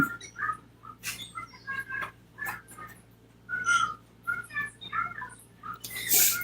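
Pet green-cheeked conures and cockatiels calling indoors, with a run of sharp chirps, whistles and squawks in bursts, close and fairly loud, one harsh shriek at the end.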